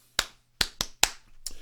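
Hands clapping a short rhythm, five crisp claps in an uneven pattern, close and distinct with quiet gaps between, the last one softer and trailing.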